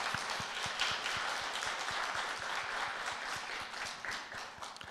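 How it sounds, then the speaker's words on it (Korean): A church congregation at a Korean Sunday worship service applauds to welcome returning members, a steady, full round of clapping from many hands that carries on evenly for several seconds. "우리 환영의 박수 하겠습니다."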